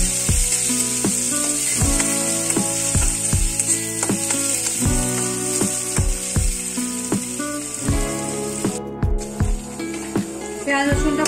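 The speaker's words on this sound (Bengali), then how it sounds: "আর এই মশলাটা একটু ভালো করে ভেজে নিতে হবে।" Onion, ginger and green chilli fry in a pan for soya keema with a steady loud sizzle, punctuated by regular scraping taps of a spatula stirring the mixture.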